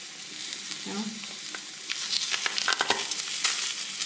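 Meat sears in a small frying pan, giving a steady crackling sizzle with sharp pops and spatters, growing busier toward the end.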